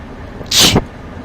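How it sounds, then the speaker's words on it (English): A single sharp sneeze bursts out close to the microphone, lasting about a quarter second against a quiet room hum. "I apologise for my sneeze."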